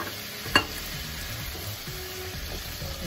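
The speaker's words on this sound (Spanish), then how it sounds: "en este punto voy a agregar la papa. La papa, revolvemos." Potato is stirred into a chicken stew simmering in a pot, a soft steady bubbling sizzle with one sharp clink of the spoon early on and faint scraping as the pieces are turned.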